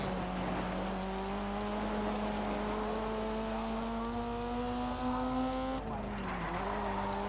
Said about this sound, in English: Tap of the handbrake in that corner there.